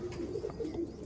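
Pigeons kept for sale coo softly in a short burst, low faint murmuring calls with a light flutter near the end and no talking.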